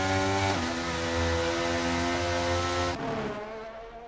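F1 cars with V6 engines race in a video game at the Australian GP, a loud sustained high-revving engine drone with a sharp gear shift near the start and a sudden drop as one car pulls away.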